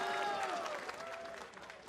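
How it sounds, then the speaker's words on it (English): Crowd at an LCS esports match between 100 Thieves and TSM, a dense cheering and clapping roar from a large audience, mixed with voices and fading slightly toward the end. "The crowd is ready."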